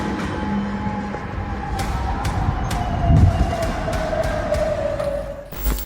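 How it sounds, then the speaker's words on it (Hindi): An air raid siren wails steadily at a distance, one long tone slowly sliding lower, over a rough broadband rumble of wind or traffic with a few sharp clicks. "जहां एयर रेड सायरन बजने लगे"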